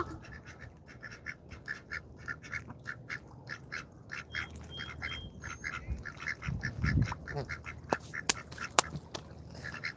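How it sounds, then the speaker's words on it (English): Ducks at a park pond in Deer Lick Park, Douglas County, Georgia, quack in a steady chattering chorus of short repeated calls, moderately near, with a few sharper squawks and honks among them. "just come to Deer Lick and feed the ducks for a quarter"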